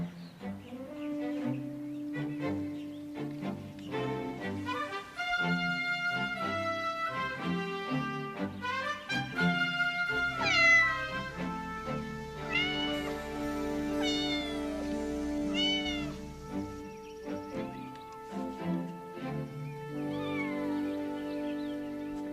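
A cat stuck in a tree meows and caterwauls repeatedly, a long run of drawn-out, wavering cries rising and falling in pitch, clear and prominent with no talking.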